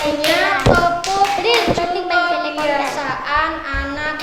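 Elementary schoolchildren in an Indonesian classroom clap a patterned rhythm together. Distinct hand claps punctuate the sound while children sing and chant at the same time.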